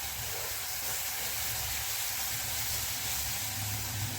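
Tomato and onion frying in a little oil in a pan, a steady soft sizzle and hiss throughout with no voices.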